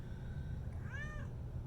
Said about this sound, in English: You're still trying to meow while you eat?